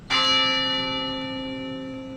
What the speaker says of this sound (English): a ringing of the bell tower